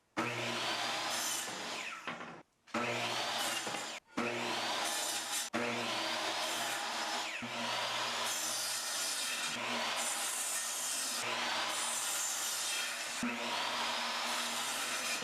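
Power saw cutting wood boards for a hanging plant wall, a loud sustained whine broken into several separate cuts with short pauses between them, close up and without talking.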